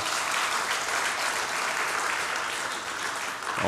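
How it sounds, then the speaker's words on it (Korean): A church congregation claps together in sustained, even applause, a dense wash of hands close and continuous from start to finish. "박수하겠습니다"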